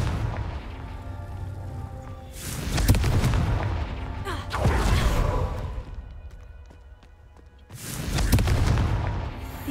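Repeated Confringo fire-blast spells explode in Hogwarts Legacy, with three loud booming bursts a few seconds apart, each a heavy whooshing blast with a rumbling tail, and no talk over them.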